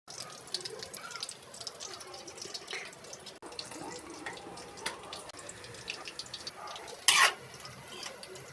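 Kangkong adobo is stirred in a pan, with soft scraping and a faint sizzle, punctuated by clinks of a utensil and a brief louder burst near the end, fairly quiet overall.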